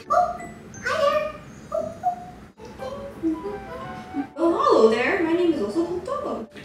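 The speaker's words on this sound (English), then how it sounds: "This is my new puppy." A new puppy gives several short whimpers and yips with a few barks, close by, mixed with a person's voice talking and cooing at it throughout.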